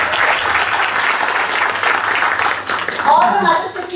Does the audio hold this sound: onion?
no